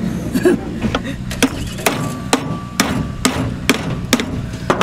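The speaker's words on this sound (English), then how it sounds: "If in doubt, hit it with a hammer." Sharp metallic hammer blows ring out one at a time at an irregular, unhurried pace over a steady background rumble, close and loud.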